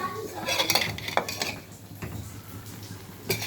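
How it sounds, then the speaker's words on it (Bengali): A lid lifted off a pan of frying lentil fritters, a few clanks and scrapes of metal cookware over a low background hiss. "তো এবার ঢাকাটা খুলবো।"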